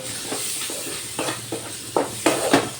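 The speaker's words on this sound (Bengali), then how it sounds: "এবার আমি সব মশলাগুলো ভালো করে কষিয়ে নেব" Chili and cumin powder with tomato and ginger paste fry in a pan for chana dal, a steady close sizzle broken by rhythmic scraping stir strokes that grow stronger toward the end.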